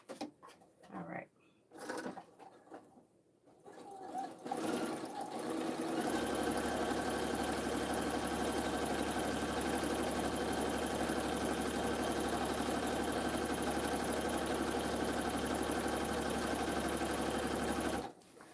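A home sewing machine stitches a dress with a bubble hem, a long steady mechanical hum running close and continuous after a few seconds of quiet handling and brief speech.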